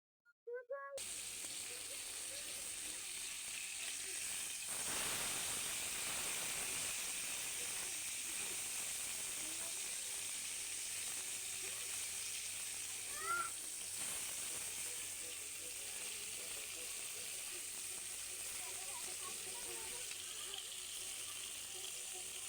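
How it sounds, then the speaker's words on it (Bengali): Pieces of rui fish fry in hot oil, a steady loud sizzle and hiss running throughout, broken by brief scraping clatters as the pieces are turned over with a utensil. "মাছগুলি এখন আমি উল্টিয়ে দিব"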